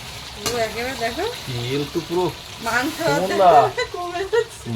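Country chicken pieces fry in oil as potatoes are added, a steady low sizzle and stirring running beneath continuous close conversation.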